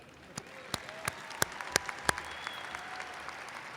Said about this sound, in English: You can applaud here too.